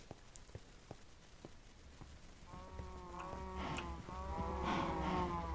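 Cows in Minecraft give out repeated moos with harmonics, growing louder over the second half, clear and with no talking.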